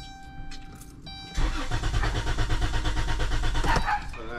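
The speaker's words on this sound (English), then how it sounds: "It's just cranking, it's not starting." A car engine cranks repeatedly without catching during a mobile mechanic's electrical fault diagnosis, a steady, loud rhythmic churning of the starter that begins after a faint pause and runs on unbroken to the end.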